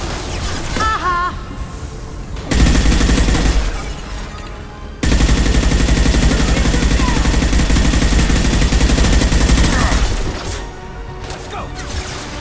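Loud, sustained automatic gunfire in the Mass Effect video game, two long dense bursts close up with brief quieter gaps between them.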